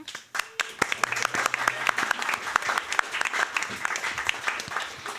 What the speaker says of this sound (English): Let's give a hearty round of applause for the hardworking food service staff.